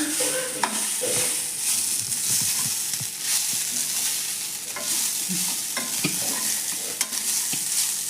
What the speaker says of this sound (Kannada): ಒಗ್ಗರಣೆ ಹೊಡೆದ ಹಾಕ್ಯಾರಲ್ರಿ